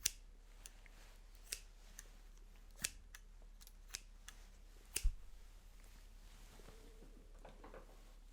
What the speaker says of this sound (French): petit son de ciseaux